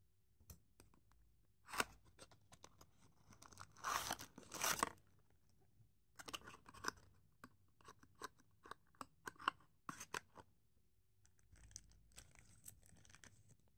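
Packaging around a Tomica Premium No.16 Toyota 86 GRMN, a 1/59-scale die-cast toy car, being opened: close crisp snips, crinkles and crunches of plastic and card in irregular bursts, no talking.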